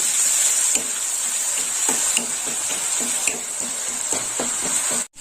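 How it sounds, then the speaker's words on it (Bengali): Onion paste frying in a pan until reddish for a Mourala fish poppyseed curry, a steady close sizzle with a bright hiss and repeated soft scraping stir strokes throughout, no talk. "পেঁয়াজটা একটু লাল লাল করে ভেজে নেবো"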